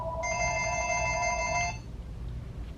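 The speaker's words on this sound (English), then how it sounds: "There goes the phone right at lunchtime." A telephone rings once with a bright electronic trill lasting about a second and a half, then stops, leaving quiet room noise.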